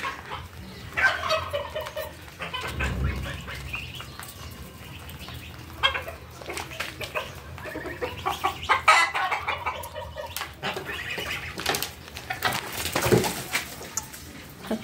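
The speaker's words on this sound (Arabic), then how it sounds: "الفراخ بتخش هنا" Farmyard chickens cluck and squawk in an animal pen shared with rabbits and ducks, giving irregular bursts of clucking, some near and loud, others softer, spread across the whole stretch with rustling in between.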